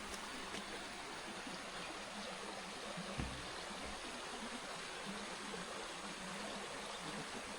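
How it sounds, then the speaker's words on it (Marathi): Flowing river water near a temple in Dapoli gives a faint, steady rushing murmur in otherwise quiet surroundings, with no talking. "पाण्याचा आवाज येईल फक्त."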